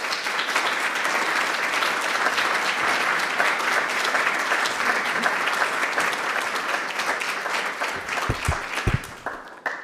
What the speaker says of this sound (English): So a big round of applause for His Excellency.